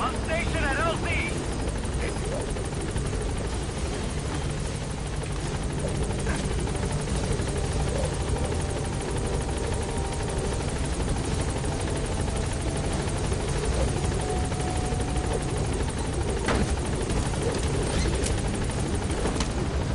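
Helicopter in the video game Metal Gear Solid V arriving at a landing zone, a steady loud rotor drone filling the whole stretch with faint radio-style voices over it.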